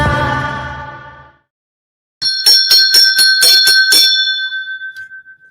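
A bell rings in a quick run of about eight close, bright strikes with a lingering ring that fades at the end, following a short stretch of music and a pause.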